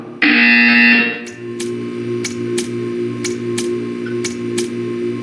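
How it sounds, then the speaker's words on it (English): A loud electronic buzzer in the video game Portal 2 blares for about a second, followed by a steady low hum with rhythmic clicking taps. "When you hear the buzzer, stare at the art."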